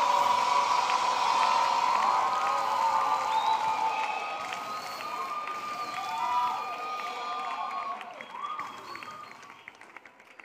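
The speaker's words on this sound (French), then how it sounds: "Acclamation. Clap." A church congregation at a Ministère de la Parole gathering claps and cheers, a steady crowd wash with raised voices and shouts over it, fading slightly as it goes on.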